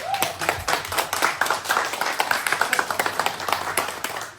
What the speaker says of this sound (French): Famille, applaudissez pour lui.